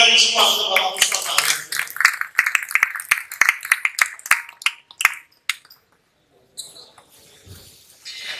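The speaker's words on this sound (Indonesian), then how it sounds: "Oke, tepuk tangan semua untuk Bapak Mustafa." Scattered handclaps from a gathered audience at a talk come in a quick burst under a voice, then thin out into a few separate, sharp claps before stopping.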